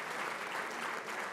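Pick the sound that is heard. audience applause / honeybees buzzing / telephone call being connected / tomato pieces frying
audience applause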